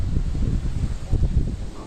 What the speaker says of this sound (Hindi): बड़ी ठंडी हवा चल रही है